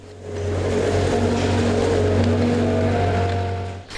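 A new tractor loader working on a farm, its diesel engine a loud, steady close drone that holds an even pitch throughout and then cuts off near the end.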